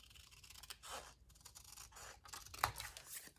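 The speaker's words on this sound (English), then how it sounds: "I'm going to try cutting it out with my scissors." Scissors cutting out a paper piece for a scrapbook Christmas card page, giving a few faint, scratchy snips spread over several seconds with a sharper click near the end, alone and quiet.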